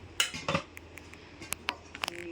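Metal kadai cooking pans and their lids, one of them nonstick, clanking and clattering as they are handled: a few sharp, bright knocks and rattles spaced apart, close by, with no talking.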